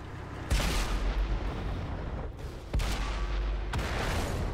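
Heavy tank cannon blasts in a World War II tank battle game, with loud booming onsets near 0.5, 2.7 and 3.7 seconds over continuous rumbling gunfire and battlefield noise.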